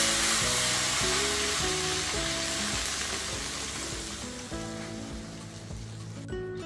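Fresh coriander and a tempering go into a hot pan for a Marathi amti and hiss with a steady, even sizzle, partly under continuous melodic background music.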